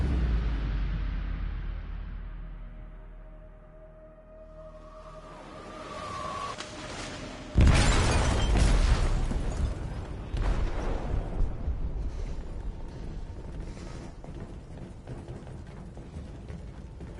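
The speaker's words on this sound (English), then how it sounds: "They detonated an explosive in the hold." Explosion detonating in a ship's hold in War Thunder, a sudden loud deep blast followed by a long rumbling, crackling roar that slowly decays, preceded by quieter mechanical ambience.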